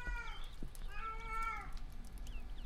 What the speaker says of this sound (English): Why are they still making meow meow noises?